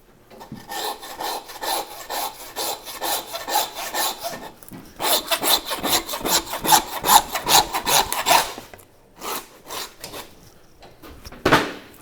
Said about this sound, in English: Now we grab our handsaw.